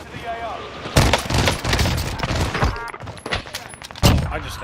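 Gunfire in the battle royale game Call of Duty Warzone, a few sharp, punchy shots and bursts at irregular intervals under a player talking.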